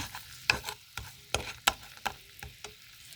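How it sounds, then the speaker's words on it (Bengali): Sugar being stirred as it melts into caramel in a pan, heard as a series of sharp scraping clicks and light sizzle roughly every half second, close and fairly quiet with no talk. "ক্যারামেল বানিয়ে নেব। ভালো করে গলিয়ে নেব।"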